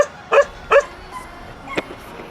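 Dogs in a rural Chinese village give three sharp, fairly close barks, two in quick succession and one after a short pause, against a quiet background.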